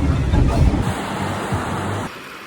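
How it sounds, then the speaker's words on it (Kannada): Ocean waves surge and crash onto the shore along the Karnataka coast near Honnavara, a loud rushing wash mixed with wind that eases off abruptly after about two seconds. "ಅಲೆಗಳ ಅಬ್ಬರ."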